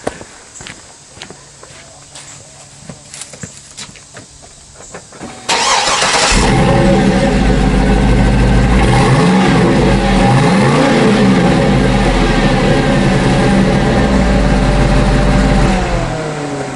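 A Cadillac Escalade with an LQ9 6.0 V8 and stock exhaust starts up after a few footsteps and clicks, then holds a loud, steady rumble with revs rising and falling.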